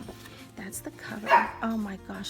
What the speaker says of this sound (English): I'm sorry if you hear my doggies barking.